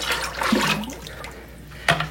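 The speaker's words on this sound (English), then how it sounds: "So we're gonna add in our additional water." Water is poured into a container during lye soap making, a short splashing, gurgling pour that trails off, then a brief second splash moments later.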